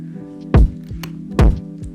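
Soloed future bass kick drums with saturation switched off: two heavy, booming kicks land about a second apart, loud and close, with softer thumps between them over a low sustained tone.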